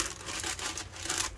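Paper rustles and crinkles in short scraping bursts, close by, as a sheet is unrolled and handled.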